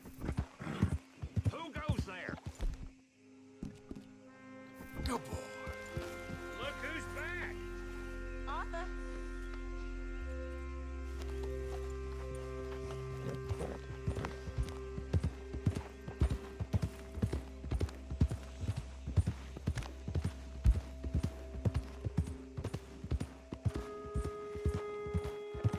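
A horse in the video game Red Dead Redemption 2, with steady clip-clopping hooves and an occasional whinny, rhythmic steps growing busier toward the end beside game sounds and some talk.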